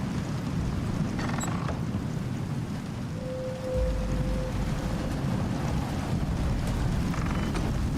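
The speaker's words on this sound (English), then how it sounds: "We don't need to listen to that windstorm, Miss Legs." Howling magical windstorm in the survival game Icarus, a steady, dense roar of wind and rain-like rushing that stays loud and unbroken throughout, with a brief tonal whine in the middle.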